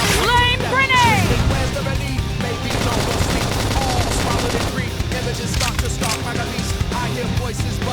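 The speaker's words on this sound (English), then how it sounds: "Flame grenade!" Flame grenade going off in the Xenoblade Chronicles X game, a dense burst of crackling, popping blasts layered over busy battle noise and music, with a voice shouting near the start.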